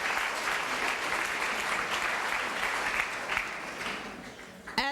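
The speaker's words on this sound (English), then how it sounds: "that deserves a round of applause" Audience applause fills a conference plenary hall, a steady dense wash of many hands clapping for nearly five seconds before tapering slightly at the end, with no talk over it.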